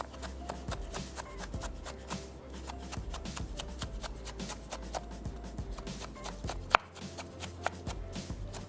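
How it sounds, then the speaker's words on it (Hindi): A knife julienne-cuts vegetables for chicken shawarma in a kitchen, producing quick, regular chopping taps on a board with light rustling, close and fairly soft, with one sharper knock near the end. "और उसके बाद इसको हमने जूलियन काट लेना है।"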